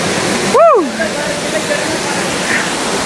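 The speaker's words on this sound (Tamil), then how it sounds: "அங்கே இருந்து அப்படியே தண்ணி வருது" Rushing waterfall pouring down rocks in the Balangoda hills, a loud steady broadband roar that fills the scene with a brief whistle-like tone rising over it early on.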